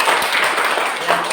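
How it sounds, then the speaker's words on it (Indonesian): Children in a classroom clap for a classmate in a short, dense burst of applause close by, with a voice faintly present. "Tepuk tangan untuk Bella."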